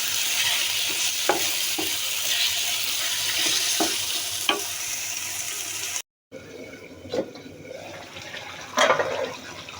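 Tomatoes frying in a pan for a tengra fish curry, a steady close sizzle with a few stirring clicks and scrapes, briefly cut to silence midway before the sizzling resumes.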